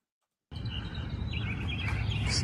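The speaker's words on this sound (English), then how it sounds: "Birds sound awesome first thing in the morning." Birds chirp faintly outdoors in the morning, scattered high calls sitting above a steady, loud background rumble.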